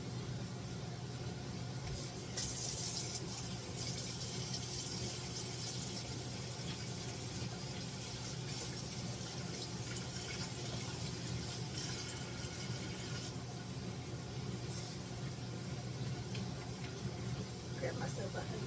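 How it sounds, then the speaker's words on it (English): A kitchen tap runs steadily while hands are washed beneath it, a continuous close hiss and splash that swells slightly at moments and carries on without a break. "Let me wash my hands right quick."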